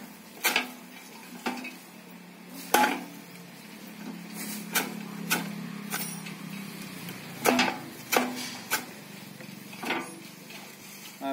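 A hand-operated fodder grass cutting tool chops grass on a table, a series of sharp, irregular metallic chops spaced roughly a second apart over a quiet background, with no speech.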